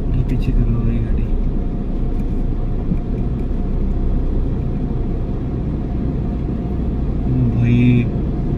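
A car's engine rumbles steadily while driving along a road at night, close and continuous, with people talking over it throughout.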